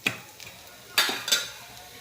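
Baby potatoes fry in a pan while a spoon stirs them, giving a few close metallic scrapes and clinks over a steady low sizzle.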